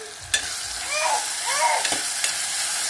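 Onions sizzle steadily in a pan while a spoon scrapes and stirs with a few sharp clicks.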